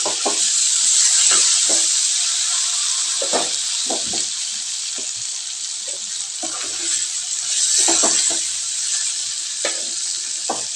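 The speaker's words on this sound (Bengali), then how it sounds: "পনিরগুলোকে ফ্রাই করে নিতে হবে" Marinated paneer pieces with salt and turmeric frying in a pan: a loud, continuous close sizzle with intermittent soft taps and scrapes from turning the pieces, and no talking.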